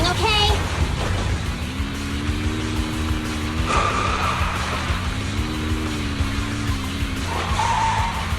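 A car racing through a track in Zenless Zone Zero, the engine droning low and steady while tires squeal and skid in repeated wavering streaks, with voices talking faintly over it.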